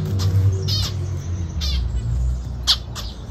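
Pet bird in a cage giving several sharp, bright calls and squawks close by, scattered across a steady low background hum.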